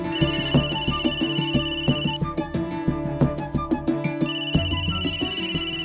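A phone ringtone plays loudly and steadily, a repeating electronic melody with a bright chiming pattern that pauses briefly midway before resuming.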